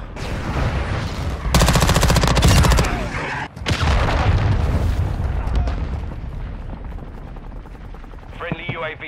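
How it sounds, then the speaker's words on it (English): Gunfire and a cruise missile strike in Call of Duty Modern Warfare II: a burst of rapid automatic fire, then a heavy explosive blast and rumbling aftermath, with voices talking over the combat. "Friendly cruise missile inbound."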